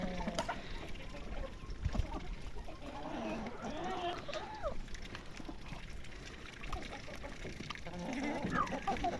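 Chickens cluck softly nearby in scattered bursts, under a quiet outdoor background with occasional faint talking.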